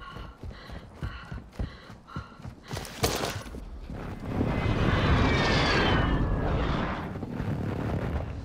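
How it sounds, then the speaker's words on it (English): An enemy precision airstrike in a video game: a rapid burst of gunfire cracks gives way to the swelling roar of a jet aircraft sweeping overhead, loud and sustained. "Enemy precision airstrike."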